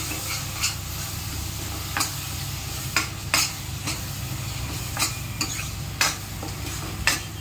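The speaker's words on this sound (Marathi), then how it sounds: "हे मी 2 टमाटरची पेस्ट केलेली होती ती टाकूयात। याला पण आता आपण छान परतून घेऊ।" Tomato paste sautéing for chhole, a soft steady sizzle in a pan broken by repeated scraping stirs and light utensil clicks about once a second, with no voices.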